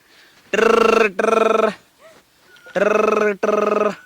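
A telephone rings in two double bursts, loud and close, with a short quiet gap between the pairs.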